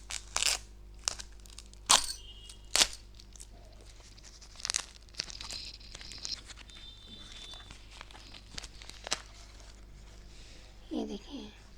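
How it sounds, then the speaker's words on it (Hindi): A packed parcel holding a shrine garment from Khatu is torn open at close range, with bursts of ripping and crinkling packaging scattered through the clip and quiet gaps between them. "अब आप ही लोग के सामने ये हम खोलेंगे इसको।"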